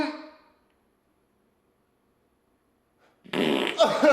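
Two bursts of a fart sound effect, triggered through a brain-controlled headset: a short buzzy one at the start, then silence, then a longer louder raspy one at the end.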